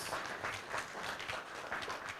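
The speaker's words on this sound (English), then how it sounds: "Can we have another round of applause, please, for all our debaters?" An audience applauds debaters at a Fiji university debate: faint, distant clapping that rises and falls slightly over a couple of seconds.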